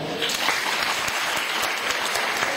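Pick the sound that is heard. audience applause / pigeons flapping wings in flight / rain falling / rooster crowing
audience applause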